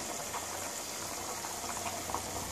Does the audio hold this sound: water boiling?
yes